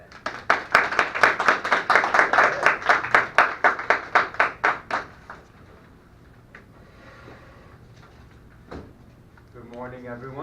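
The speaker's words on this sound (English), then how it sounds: "So if you can all please give me a round of applause" A small group at a coding class talk claps in a brisk, even rhythm for about five seconds, then fades into quiet room noise before a voice begins speaking.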